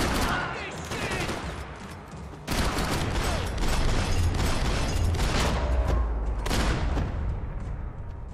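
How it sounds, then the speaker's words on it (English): Sustained gunfire rages in a Max Payne 3 firefight in Hoboken, with rapid automatic bursts, heavy booming impacts and overlapping shots that grow louder partway through and stay intense. "Gunfire over Hoboken."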